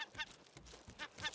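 Seagull calling in the survival video game Raft at sea, a few short honking squawks in quick succession, fairly faint and alone.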